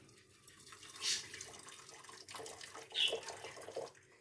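Boiled parsley and lemon drink is strained in a kitchen, giving faint pouring and trickling liquid sounds with a couple of brief splashy bursts.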